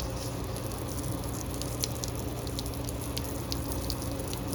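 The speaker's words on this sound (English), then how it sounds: "then you wash it with the water hose" Water from a hose washes degreaser off a 1978 Datsun 280Z engine being cleaned in stages, a steady close spray hiss with scattered splashes and drips throughout.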